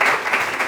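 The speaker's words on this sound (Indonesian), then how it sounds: "tepuk tangan dulu untuk kelompok ini ya" A group of students applauds a classmates' presenting group during a classroom session, a short burst of many hands clapping together, fairly loud and close, with no talk over it.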